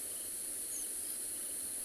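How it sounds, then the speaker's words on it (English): Frogs call from nearby puddles on a night safari after rain, forming a continuous, dense, rasping chorus that stays even and unbroken, with a faint high trill above it. "deafened by the sounds of the frogs in the nearby puddles"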